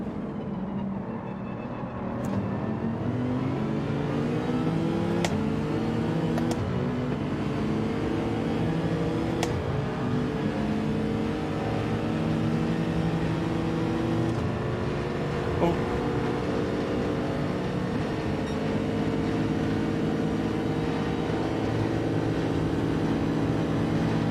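A Mercedes race car in Gran Turismo 7 drones along at steady high revs, a loud continuous engine hum with little variation, heard close from on board.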